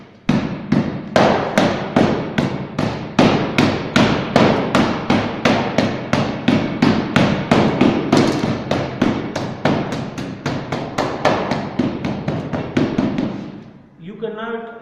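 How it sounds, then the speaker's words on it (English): Rubber-tipped hammer pounding clay lumps in a soil mixture for a gradation test: a steady run of about thirty close, loud thuds at a quick even pace, stopping near the end. "you will have to break these clay lumps with the help of this rubber tipped hammer"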